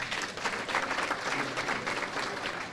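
A crowd at a political chapter launch event claps in a dense, steady round of applause that fills the whole short stretch, fairly loud and unbroken.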